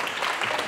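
Applause from an audience at a Sunday lecture, a dense, even wash of many hands clapping close by, steady and fairly loud throughout the short burst with no voices over it.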